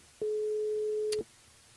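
A single steady electronic tone on a telephone line while calling a radio station switchboard, lasting about one second, clear and alone with faint background hiss around it.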